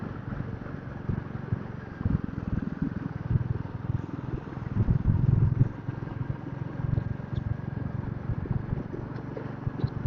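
A Royal Enfield Meteor 350 motorcycle cruises along a long highway stretch, its steady low engine drone and wind rumble continuing unbroken throughout, with slight swells in loudness.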